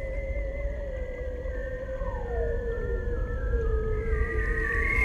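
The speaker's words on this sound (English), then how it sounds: "I think a lot of people that we talk to don't associate whistling with seals." Bearded seals in Arctic waters let out long, sliding underwater whistles that overlap and glide downward, eerie and steady over a low rumbling background.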